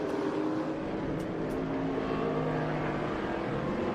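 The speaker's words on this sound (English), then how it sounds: "Biddle's out there in that Ford Mustang there, racing with that Porsche" A Ford Mustang with a Boss 302 body races a Porsche on a road course, loud sustained engine roar with shifting revs, blended with crowd-level background noise, no speech.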